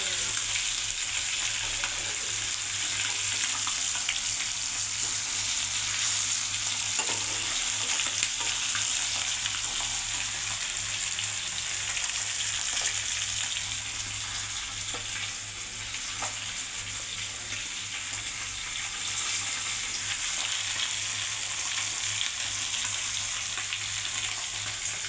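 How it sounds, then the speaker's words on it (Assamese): Small nichla fish fry in a pan, giving a continuous close sizzle and crackle that eases slightly midway and then rises again, with no voices. "এতিয়া এই নিচলা মাছ ভাজিছোঁ"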